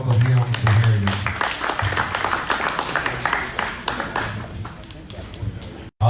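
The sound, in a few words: audience applause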